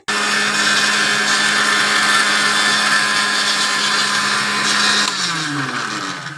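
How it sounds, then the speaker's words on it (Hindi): Kitchen blender whirs at a loud, steady pitch while mixing egg, sugar, milk and oil into pancake batter, then winds down with a falling tone after about five seconds. "तो ये हमने ब्लेंडर में ब्लेंड कर दिया अंडा चीनी दूध और तेल"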